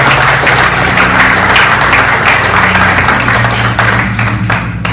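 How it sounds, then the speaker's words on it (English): Applause for a senior-care team at a health clinic grand opening: a loud, continuous crowd of hands clapping up close with a low steady hum beneath, holding for the full five seconds. "let's give them a round of applause"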